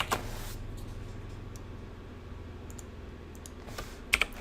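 Fingers typing on a computer keyboard, soft irregular clicks close up, quiet, with a couple of sharper key taps near the end.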